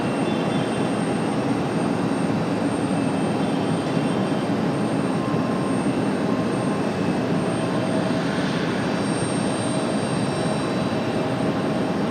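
Boeing 757 jet airliner roaring steadily at Raleigh-Durham International Airport, a loud continuous engine rush with a faint high whine, holding close and unbroken.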